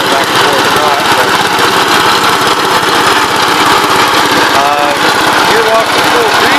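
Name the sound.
1970 Gravely C8 engine running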